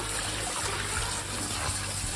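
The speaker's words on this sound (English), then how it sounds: "And we're gonna rinse these" Water runs steadily as collard greens are rinsed, a continuous splashing gush that stays even and close throughout.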